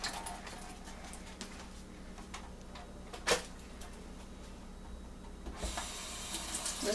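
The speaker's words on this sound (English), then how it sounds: "I'm gonna rinse off my tofu too." Cold tap water runs over tofu in a kitchen sink, a steady close hiss and patter with a brief louder splash partway through and a brighter rush of water near the end.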